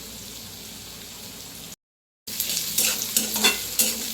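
Onion and tomato sautéing with mustard seeds, curry leaves and green chillies for an okra curry: a soft sizzle, then a short gap, then louder stirring scrapes and crackling frying close up.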